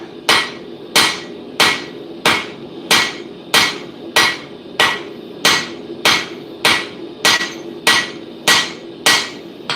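Hammer strikes forging a bevel on metal at a blacksmith's forge, a steady series of about fifteen loud, ringing blows at an even pace, each decaying quickly, close and alone.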